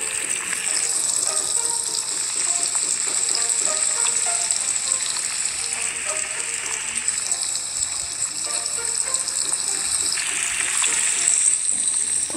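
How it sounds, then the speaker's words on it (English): Bacon sizzles continuously in a bright, crackling hiss in a Roblox obby video game, steady and close for the whole stretch, with faint game-like background tones and no talking. "There's all that sizzling of bacon."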